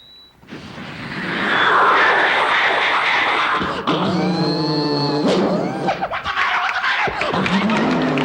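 A voice imitates a plane coming in to land, building into a long roaring whoosh with a rising whine, then rough rumbling sputters, loud and close.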